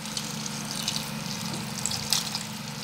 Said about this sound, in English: now you'd have to be putting in water,